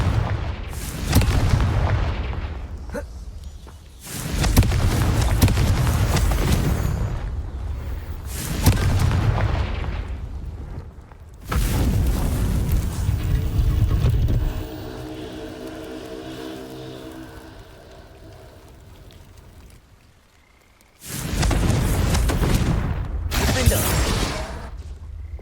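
Heavy booming blasts from the Confringo fire spell in Hogwarts Legacy, several loud explosive bursts separated by quieter rumbling and mechanical clanking, with no voices.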